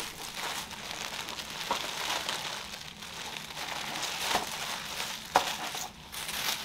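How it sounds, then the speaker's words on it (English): Tissue paper crinkles and rustles as a Strathberry order is unboxed, soft and close, with irregular crackling crumples and one sharper crunch near the end. No one speaks. "My goodness, there's a lot of tissue paper here."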